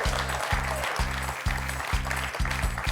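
Studio audience clapping for a contestant on a French television quiz show, heard under a strong, regular low rhythmic pulse of music, moderately loud and continuous.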